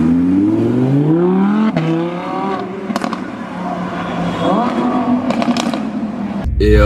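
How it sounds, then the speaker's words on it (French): A car creeping through a traffic jam during a Modball Europe 2019 rally, its engine note rising and falling close by while someone talks over it, with a few sharp clicks along the way. "je suis en train de rouler, frérot, dans les embouteillages"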